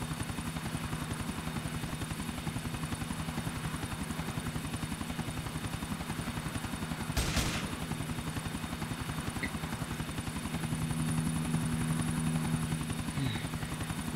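A helicopter's rotor in GTA IV chops in a steady, rapid rhythm throughout, loud and close, with a brief whoosh midway and a higher whine joining near the end.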